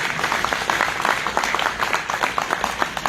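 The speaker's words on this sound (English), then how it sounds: "let's just give another round of applause to everyone up here" An audience at the opening ceremony of a farm, ranch and hemp expo claps steadily and fairly loudly throughout, a sustained round of applause with no talking.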